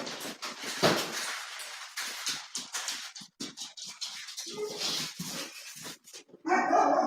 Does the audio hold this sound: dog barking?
yes